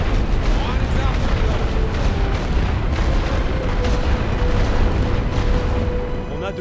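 Artillery barrage in The Great War: Western Front, a dense continuous rumble of booms and bursts with a voice talking over it.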